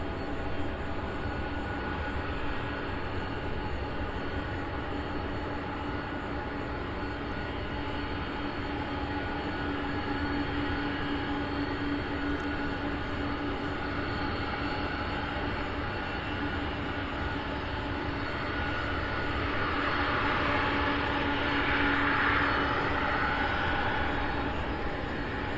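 An MD-11 jet at an airport: a steady, broad engine roar fills the whole stretch, swelling slightly louder toward the end, with no talk.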